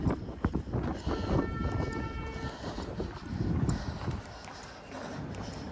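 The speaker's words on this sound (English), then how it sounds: "Here comes a westbound train." A Toronto TTC subway train rumbles into an underground station with rhythmic clattering wheels and a rising screech of brakes, loud and close, echoing in the enclosed space.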